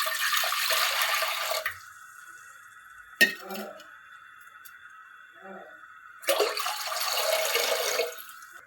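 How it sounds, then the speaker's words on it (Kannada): Between half and three quarters of a litre of water gushes into a pressure cooker on a stove in two loud pouring bursts, with a quieter gap between them holding a metallic clink and brief voice sounds. "ಈಗ ನಾನು ಸ್ಟವ್ ಮೇಲೆ ಕುಕ್ಕರ್ ಇಟ್ಟು ಅರ್ಧದಿಂದ 3/4 ಲೀಟ್ರಷ್ಟು ನೀರು ಹಾಕ್ಕೋತಾ ಇದ್ದೀನಿ"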